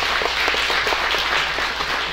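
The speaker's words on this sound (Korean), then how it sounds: "우리 큰 감사의 박수 하나님께 영광의 박수 올려드리고요" A church congregation in Las Vegas applauds during a spring revival service, a steady wash of many hands clapping that fills the whole clip at a moderate, even level.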